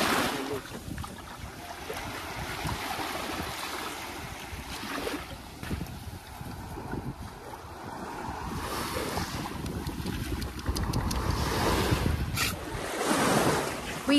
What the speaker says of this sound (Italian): questa è la spiaggia della Marinetta, dove abbiamo portato Teddy a fare un po' di